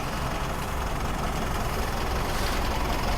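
A 2020 Mitsubishi Pajero Dakar 4x2 engine idles with a steady, continuous broadband rumble and hum, heard close and unbroken with no talking.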